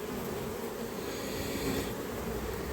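Honeybees swarm thickly around the front wall of a beehive, a steady dense buzzing drone that holds at constant loudness throughout, close and continuous with no talk.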